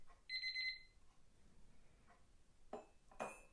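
A kitchen timer alarm beeps a quick electronic pattern for under a second, faint in a quiet room, followed by a few soft clinks.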